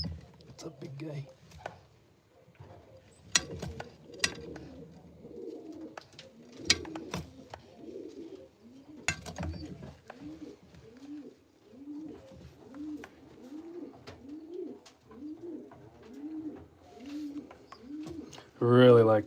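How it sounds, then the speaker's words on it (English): Young racing pigeons in a breeder loft coo in a repeated rhythmic series, soft and close, with occasional clatter and someone talking quietly at times. "These are racing pigeons"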